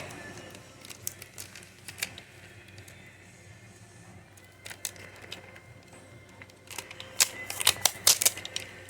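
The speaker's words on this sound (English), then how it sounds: "Now I'm going to take some of the Max Hold duct tape, and I'm simply going around" Strips of Max Hold duct tape being pulled and wrapped around a homemade puppy wrist splint, heard as sparse crackles and peeling rips that grow into a denser burst of tearing near the end, close and fairly quiet.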